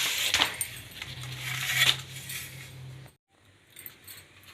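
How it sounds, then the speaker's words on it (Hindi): Parathas for malida dropped into a large metal pan, with clattering metallic clinks and scraping up close, then a brief hush and softer handling sounds. "सारे पराठे अब मैं एक बड़े तसले में डाल रही हूँ।"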